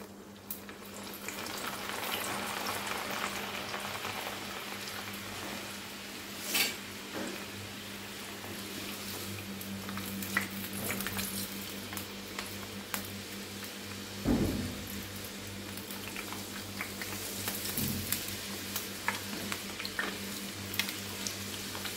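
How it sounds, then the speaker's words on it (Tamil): Peanuts coated for spicy karakkadalai frying in hot oil, a steady close sizzle and bubbling throughout with occasional stirring clinks of a utensil. "இப்போ நம்ம எண்ணெயில் போட்டுட்டு எப்படின்னு பார்க்கலாம் வாங்க"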